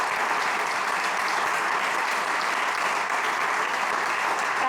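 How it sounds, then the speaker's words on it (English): Audience at an arts society gold medal award ceremony applauding after a piano and flute performance, giving dense, sustained clapping from a large crowd at an even, loud level throughout. "I think from the applause you could tell that that was very well received."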